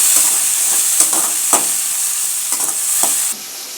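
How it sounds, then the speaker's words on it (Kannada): Cumin and tomato fry in a pan for a dhaba-style masala curry of alasande (black-eyed pea) beans, giving a steady loud sizzle with a few scraping stirs, alone with no talk, the hiss dropping off near the end. "ಇವಾಗ ಜೀರಿಗೆ, ಇವಾಗ ಟೊಮೆಟೊ ಹಾಕೊಳ್ಳಿ. ಚೆನ್ನಾಗಿ ಫ್ರೈ ಆಗಿದೆ."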